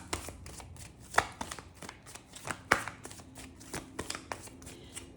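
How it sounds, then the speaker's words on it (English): Rapid riffling of a deck of cards being shuffled up close, bursts of crisp flicks and snaps repeating in an uneven rhythm. "So I shuffle until the cards change sound."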